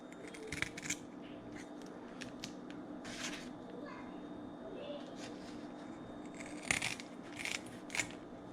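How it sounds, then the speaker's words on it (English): Several sharp snips of kitchen scissors cutting through the tail and fins of a barred surf perch, scattered over the clip against a steady background hum and faint voices. "take a pair of kitchen scissors, cut the tail"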